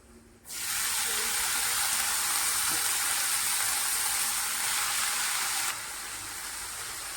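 Garlic and spring onion greens fry in a pan with a steady, loud broadband sizzle that starts abruptly and holds for several seconds before easing slightly near the end, with no voices.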